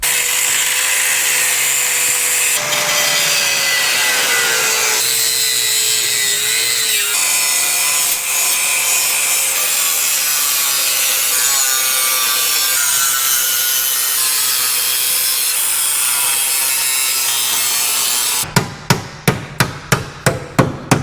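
A cutoff wheel grinds steadily through the metal body of a Land Rover LR4, a loud continuous high-pitched screech with shifting pitch, ending in a quick burst of sharp hammer-like strikes.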